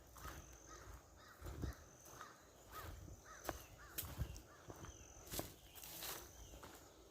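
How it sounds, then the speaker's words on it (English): Crows caw repeatedly in outdoor woodland, with sharp calls spread across the clip over a rustling, uneven background and occasional footstep-like thumps. "Birds are really coming alive now."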